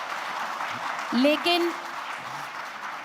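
A crowd at a political rally claps in a short burst under a man's amplified speech, the applause brief and moderately loud over a steady room hum.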